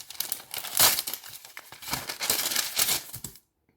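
Parchment paper for making cheese chips crinkles and tears in close, loud bursts, rustling in uneven waves before stopping abruptly into silence.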